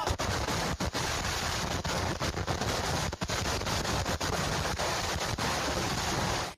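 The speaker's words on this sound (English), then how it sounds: "Fireworks can be fun, but they're not without danger." Rapid, irregular bursts of sharp cracks and pops from exploding fireworks, almost continuous over a loud, noisy background.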